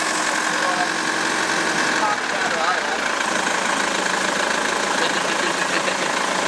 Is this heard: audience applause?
no